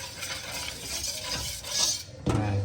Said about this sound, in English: So you get it up around the sides and then give it a whisk.